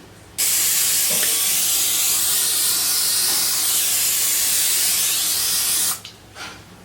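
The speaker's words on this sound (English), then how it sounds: "now we are going to spray our pan" A loud, steady aerosol cooking spray hisses continuously onto a pan for about five and a half seconds, then cuts off abruptly.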